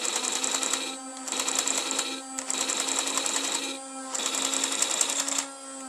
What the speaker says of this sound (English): I don't think the sound of the firing is exact to the films, but it sounds close enough